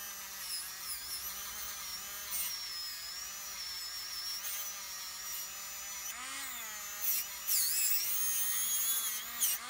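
A pierced spoon silhouette cutout being sanded with 600 grit. A steady, high, whining tool tone shifts slightly in pitch and swells louder near the end, with no speech.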